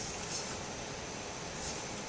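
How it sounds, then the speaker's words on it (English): A laptop fan drones with a steady, hissy noise at low level, continuous, broadband and unchanging with no voices. "That's the sound of my laptop fan"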